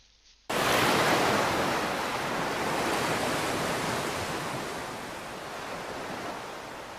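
Broad, steady roar of ocean surf washing onto a beach in Death Stranding, starting abruptly after a brief quiet moment and continuing loud and unbroken.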